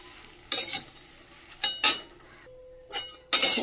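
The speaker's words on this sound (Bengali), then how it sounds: "এবার চিড়েটা দিয়ে ভালো করে ভাজবো।" Flattened rice (chire) fried with curry leaves in a pan: four loud, brief bursts of scraping and stirring against the pan, with quieter gaps and a faint sizzle between them.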